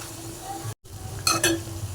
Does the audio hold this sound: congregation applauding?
no